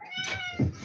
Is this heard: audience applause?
no